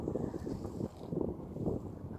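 Steady wind buffeting the microphone aboard a Cambridge pedal kayak under a home-made sail, moving briskly on open water in a light breeze, with soft water wash beneath.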